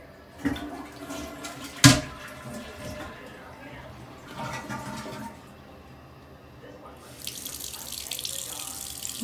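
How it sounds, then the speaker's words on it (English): Tap water running into a sink while a child's hands are washed, a steady splashing that swells toward the end, with a sharp knock early on and people talking over it. "You better wash your hands."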